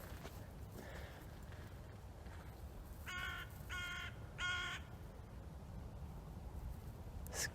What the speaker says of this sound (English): scream of some birds, every day.